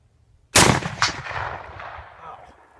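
A Mosin Nagant M44 carbine rifle fires one sharp, very loud shot at close range, with a second crack right after and a long rumbling echo fading away outdoors.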